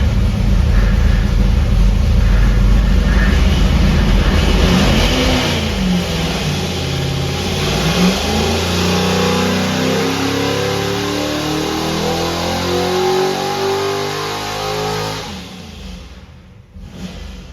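An engine on a YourDyno water brake dyno, its throttle linkage newly tightened, during a dyno pull: loud, close revving that climbs steadily in pitch for about fifteen seconds, then drops off abruptly toward idle.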